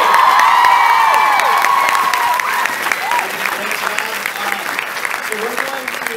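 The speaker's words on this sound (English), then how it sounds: "everybody, a round of applause, Mr. KCON." Loud applause and high-pitched cheering from a fan audience at a KCON 2015 panel, with shrieks and whoops riding over continuous clapping that stays dense throughout and voices mixed in.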